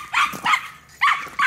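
A dog barks four times in short, loud bursts spaced about half a second apart, close by, with no talking.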